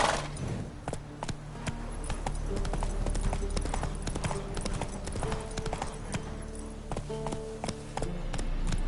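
Roach, the horse in The Witcher 3 video game, gallops with steady rapid hoofbeats throughout, close and loud over a continuous low backdrop, with a faint voice briefly present.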